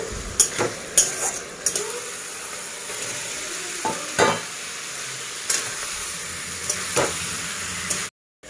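Duck eggs with green peas being stir-fried in a wok at home: steady sizzling throughout, with repeated scraping and clinking of a spatula against the pan, close and fairly loud, no talk.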